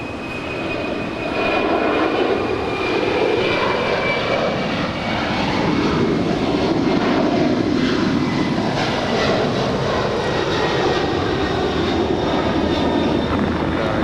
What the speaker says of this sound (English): And that's FedEx 3901 heading to Newark 3901 heavy. on a Boeing 767-300 freighter.